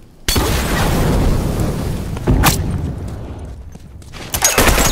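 Loud bomb blasts in The Last of Us multiplayer erupt in a sustained roaring boom, then a second sharp burst and more rumbling explosions close by, with no talk.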